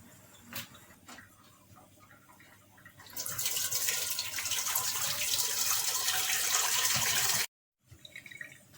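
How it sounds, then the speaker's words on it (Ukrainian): Water pours steadily for several seconds with a bright, splashing rush through a perforated jar lid, then cuts off abruptly; faint clinks and taps come before and after. "Знімаємо кришечку, надіваємо таку кришечку з дірочками і зливаємо воду"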